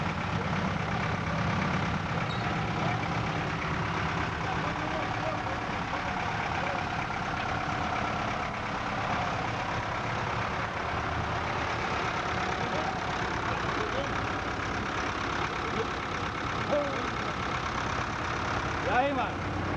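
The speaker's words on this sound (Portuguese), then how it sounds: "A lancha do Maroca" A motorboat engine idles at a floating dock at Porto Batista, a low, steady rumble held for the whole stretch at moderate distance, with faint background activity and no clear talk.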